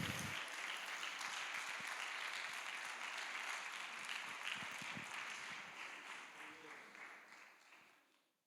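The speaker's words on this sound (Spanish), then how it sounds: "Y el aplauso muy fuerte y para el Señor" Loud congregation applause at a church gathering, thick continuous clapping that holds steady and then fades away toward the end.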